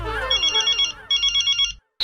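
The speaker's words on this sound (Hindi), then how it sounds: "वो जेठालाल का फोन, अभी बात नहीं कर सकता" A telephone rings in quick repeated electronic trills, two bursts separated by a short gap, loud and close, ending in silence before a brief noise.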